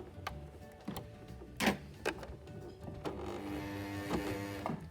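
A sewing machine stitches a pleated fabric face mask, running in short uneven bursts with ticking clicks and a low hum, quiet and close, with pauses as it strains through the layers.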